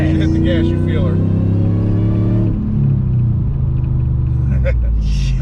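Whipple supercharged Hemi V8 in a two-wheel-drive Ram pickup truck, a loud, steady engine rumble with rising revs under throttle, heard close from inside the cab while people talk and shout over it.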